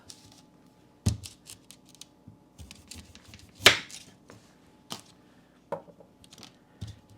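A knife cuts the end off a raw sweet potato on a board, giving one sharp crunchy chop that stands out among scattered small kitchen clicks and thumps. The setting is otherwise quiet.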